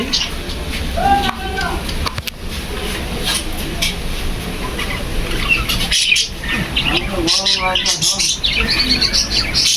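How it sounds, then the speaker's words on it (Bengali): Many small birds in a pet shop chirp and squawk continuously nearby while a person talks over the busy twittering. "আপনারা অবশ্যই শুনতে পাচ্ছেন কিচিরমিচির শব্দ"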